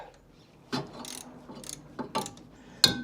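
Ratchet wrench undoing a bolt on a Jaguar XK8 alternator, a series of about five short, sharp clicking bursts at irregular intervals, close up against quiet workshop background.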